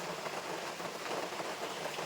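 Steady rain falls in a continuous soft hiss, an even broadband patter with no voices, fairly faint and unbroken throughout.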